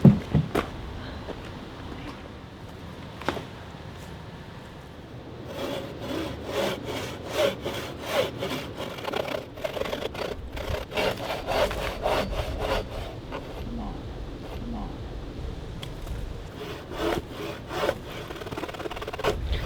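Rhythmic rasping strokes of a bow saw biting through wood, steady back-and-forth pulls at close range, with no talking.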